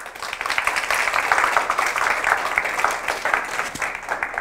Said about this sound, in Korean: 안 계시지만 박수를 한번 환영합시다.